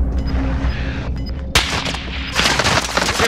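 Gunfire in an online shooter game comes in several sharp bursts, including a loud sudden shot halfway through followed by rapid crackling fire, all fairly close and with no talk.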